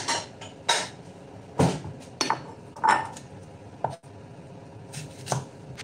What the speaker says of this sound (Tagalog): Hihiwain na natin ang sibuyas.